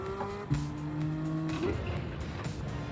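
A Gran Turismo 7 racing car engine revs high, then drops pitch sharply in a downshift before surging again, loud and close, with a faint tire screech.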